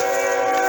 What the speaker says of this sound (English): For our audience, this is train footage.